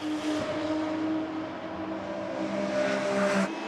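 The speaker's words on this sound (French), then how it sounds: "Dylan Derdal était contraint de réintégrer l'allée des stands avec la Porsche 911 GT3 Cup Belgium Racing" A Porsche 911 GT3 Cup race car from Belgium Racing drives at Spa-Francorchamps, its engine holding a strong, steady tonal drone that builds slightly before cutting off abruptly near the end.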